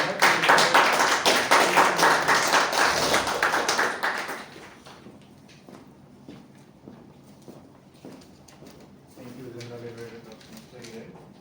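A round of applause fills a Toastmasters meeting room, loud and dense for about four seconds before dying away, after which a speaker begins talking.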